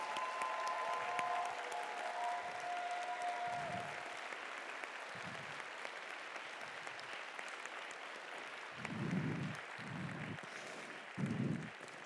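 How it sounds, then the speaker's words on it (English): An audience at a robotics competition claps steadily throughout, a dense crowd applause with a few low thumps of handling noise and no speech. "Let's give them a round of applause."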